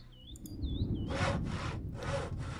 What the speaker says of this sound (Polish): Piłuj całe drewno.